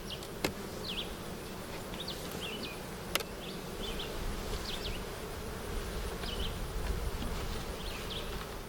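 Honey bees buzzing steadily inside a hive box during a beekeeper's inspection, a continuous close hum filling the whole stretch with a few faint clicks from handling.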